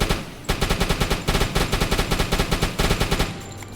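Sustained bursts of rapid machine gun fire aboard a submarine in UBOAT, loud and close, with a steady rattling rhythm broken by a brief pause near the start and easing off at the end.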